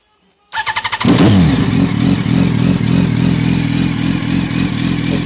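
A sport motorcycle engine, either a 2006 GSX-R 750 or a 2005 Yamaha R1, cranks with a few rapid starter pulses, then catches and runs loudly at close range with a rough, throbbing idle and slight revving.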